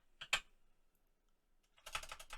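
Computer keyboard typing in two bursts: a couple of sharp keystrokes near the start, a pause, then a rapid clattering run of keys toward the end, close and moderately quiet.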